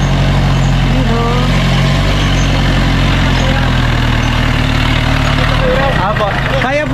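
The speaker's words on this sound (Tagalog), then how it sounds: "Yun o, may traktora o." A tractor engine idles nearby with a steady low rumbling throb that stays loud throughout, and voices talk over it toward the end.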